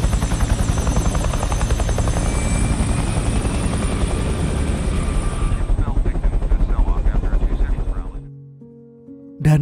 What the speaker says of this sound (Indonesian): Dan saking kayanya Melon, ia pun berangkat ke kantornya sambil naik helikopter.